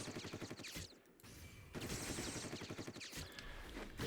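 A Machinist's spread shot gunfire in Final Fantasy XIV repeats as quick, rhythmic volleys of shots that run almost continuously, fairly faint and with no talking.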